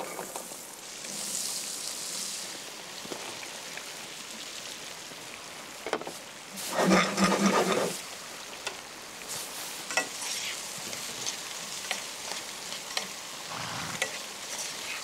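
Chopped onion, garlic and dry spices sauté in a pan with a constant close sizzle, broken by stirring scrapes and a louder burst of frying partway through, with no voices.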